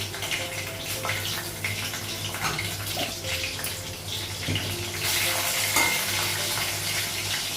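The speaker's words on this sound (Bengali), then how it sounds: "কড়াইয়ে তেল লাগিয়ে দিয়েছি কাঁচা লঙ্কা শুকনো লঙ্কাটা লাগলো পাঁচফোড়ন লাগলো" Green chillies, dried chillies and panch phoron crackle and fry in oil in a wok, a dense, continuous sizzle with stirring scrapes that grows slightly louder toward the end, close up and without speech.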